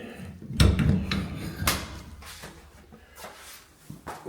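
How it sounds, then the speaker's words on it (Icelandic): A door in a cold storage room off a laundry room is pushed shut, giving a heavy thud followed by a second knock and some rustling and shuffling handling noise, close by with no talk. "Lokum hurðinni."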